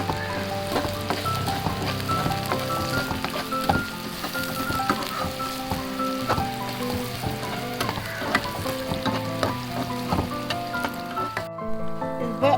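Onions frying in a pan for a bitter gourd curry: a loud, steady, crackling sizzle throughout, close by, with tonal music-like sounds underneath.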